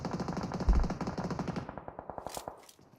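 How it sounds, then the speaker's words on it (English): Rapid automatic gunfire in PUBG Mobile, a dense burst of rhythmic shots with a heavy thump early on, thinning into spaced cracks that fade out over three seconds. "Adira opens the cannons"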